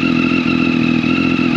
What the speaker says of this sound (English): Now we'll do a rev bomb.